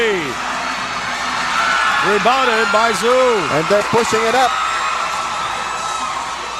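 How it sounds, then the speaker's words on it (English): Crowd cheering and whooping at a Passi City winter tournament basketball game between the Loong Lions and Titans, a broad roar swelling under an excited commentator's play-by-play. "Listen to the crowd."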